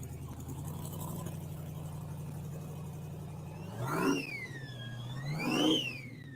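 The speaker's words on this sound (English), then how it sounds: "This right here, this Chevy, this is cammed out right there. Big supercharger." A cammed Chevy engine with a big supercharger idles with a low, steady rumble, then revs twice in quick succession, each rev rising sharply and falling back, fairly close and loud.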